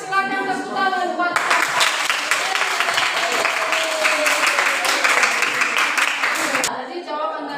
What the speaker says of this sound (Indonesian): Silakan tepuk tangan buat.